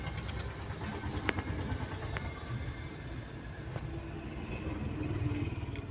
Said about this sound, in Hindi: ये देखिए छोटा ट्रैक्टर आ रहा है